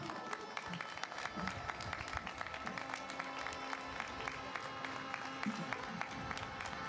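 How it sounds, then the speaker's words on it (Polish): Dense, sustained clapping from a large crowd at a patriotic demonstration in Warsaw, steady and fairly distant, with a murmur of voices mixed in throughout. "Ogromne brawa Watacha pod biało-czerwoną!"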